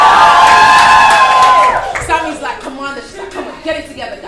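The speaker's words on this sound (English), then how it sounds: "Give yourselves a round of applause." A conference audience at a women's entrepreneurial leadership event claps, whoops and cheers loudly at first, then the applause thins into scattered shouts and chatter toward the end.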